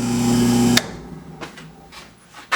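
A Wen 4210 drill press motor hums with a strong steady buzz, then cuts off abruptly; faint clicks and brief bursts of mechanical noise follow in the quieter space.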